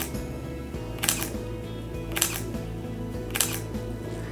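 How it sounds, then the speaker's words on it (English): Three crisp shutter clicks from a Leica M10 camera, close and isolated, spaced about a second apart over quiet background hum. "let me let you hear the shutter again. So here's the shutter."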